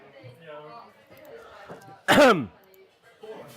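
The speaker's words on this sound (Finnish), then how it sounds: "kuivaa yskää vieläkin." A single dry cough and throat clearing bursts out loud and close in the middle, surrounded by soft indoor talk before and after.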